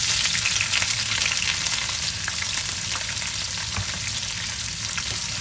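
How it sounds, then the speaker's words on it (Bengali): Chopped ginger, onion and whole garlic cloves hitting hot oil, a loud, dense, continuous sizzle up close that eases slightly over time, with faint stirring and no speech. "এখন আমি এটা এখানে আদা কুচি, পেঁয়াজ কুচি এবং আস্ত রসুন আমি নিয়েছি, এটা এখন তেলের ভিতরে দিয়ে দেবো।"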